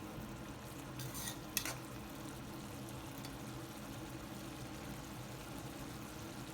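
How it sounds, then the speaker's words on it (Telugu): Tomato and drumstick curry simmers in a pan with a quiet steady sizzle, a short burst of spoon stirring and a single clink near the start, then low bubbling carries on alone. "ఇప్పుడు ఒక్కసారి బాగా కలిపేసుకొని 1 నిమిషం పాటు ఇలా ఉడకనిద్దాము"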